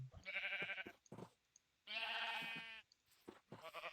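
Sheep in Minecraft bleat repeatedly in a small farm pen, several nasal wavering calls overlapping at close range, quiet overall with no talking.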